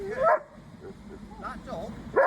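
A dog confronted by police over being off its lead gives sharp, close barks and yips at the start, in the middle and at the end, with brief whimpering between, amid tense voices.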